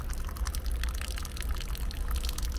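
Water drips and trickles in a fast, patter-like series of small splashes over a low background hum, close and moderately loud.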